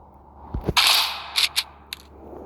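A submachine gun fires in a video game: a couple of soft low clicks, then a burst of sharp shots and a few more quick separated bangs, fairly close and alone without talk.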